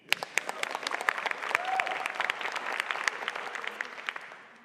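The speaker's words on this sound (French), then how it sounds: "On l'applaudit." Audience applause for a project pitch at a social-innovation summit in Quebec, steady dense clapping that holds for several seconds before fading out.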